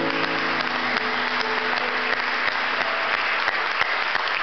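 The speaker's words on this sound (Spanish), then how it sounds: "Denle un fuerte aplauso al Señor." Church congregation applauding loudly and steadily in a Spanish-language service, a dense continuous wash of clapping with no voices over it.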